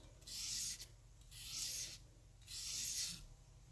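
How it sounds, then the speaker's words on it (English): A razor blade scrapes across the head gasket surface of an 11-year-old motorcycle in three long, even strokes, each a close, hissing rasp separated by brief pauses. "I'm just scraping it with a razor blade"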